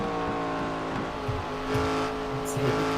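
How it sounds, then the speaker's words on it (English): ARCA race car with a front-mounted 6.5-litre engine roaring steadily at high revs, a loud sustained drone with slight rises and dips, heard in a racing game at Dover. "5-litre engine in the front, producing what is 700, 800 horsepower in a car that weighs almost nothing."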